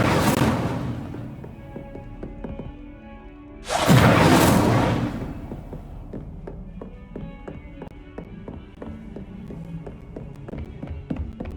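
Incendio fire spells cast in Hogwarts Legacy, two loud whooshing bursts a few seconds apart, each fading out over quiet tapping footsteps.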